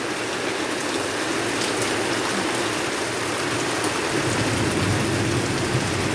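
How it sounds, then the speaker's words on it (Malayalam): Heavy summer rain pours down steadily in the evening, a dense, even roar of drops close by that holds at the same level throughout with no voices. "എന്തായാലും നല്ല മഴയാണ്."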